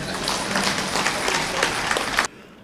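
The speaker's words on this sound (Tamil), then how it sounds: "புரிஞ்சால் கைத்தட்டுங்க." Audience at a Tamil debate-style comedy speech event applauds in a dense burst of clapping for about two seconds before it abruptly stops.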